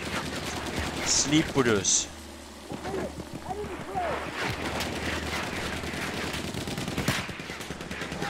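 Gunfire from the video game Battlefield 1 on the Sinai Desert map during a tank-hunting match, with bursts of rapid shots and a steady battle din running under people talking.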